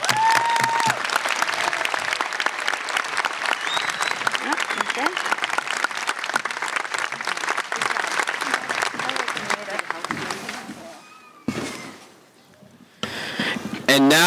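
Loud standing ovation applause fills a 2024 high school graduation ceremony, a dense sustained clapping crowd for about ten seconds before it thins out, with a short renewed burst near the end.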